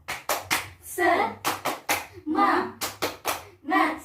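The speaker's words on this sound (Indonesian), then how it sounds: "kita tepuk semangat dulu ya" Schoolchildren in a classroom do a rhythmic spirit clap, crisp claps in a patterned sequence alternating with their voices chanting along, close and lively.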